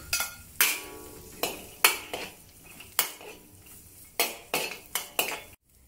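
A metal spatula scrapes and clanks in a wok about a dozen times in an uneven rhythm while chopped garlic, Chinese sausage and dried shrimp are stir-fried for lotus leaf rice, with a faint sizzle in between.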